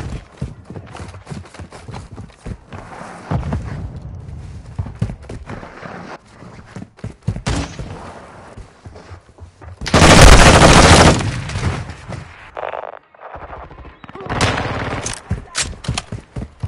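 Gunfire in a Call of Duty Modern Warfare 2 hardcore multiplayer match, with rapid shots, bursts of automatic fire and a loud blast near the middle, mixed with footsteps and game effects.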